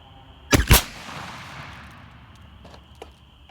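A Monarch .410 shotgun fires a single 2.5-inch 7.5 shot target load with a modified choke outdoors, one sharp loud blast followed by a fading echo and a quiet tail.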